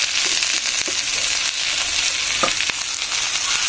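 Salt, turmeric and coriander powder fry lightly with cucumber in a pan, giving a steady close sizzle throughout, broken by a few soft stirring scrapes.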